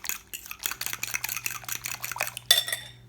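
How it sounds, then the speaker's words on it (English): Banana muffin batter being mixed in a bowl with a utensil, a rapid run of close clinking and scraping strokes, ending in a brighter clatter, with no voices. "Okay, so mix that well, make sure the egg is mixed in well."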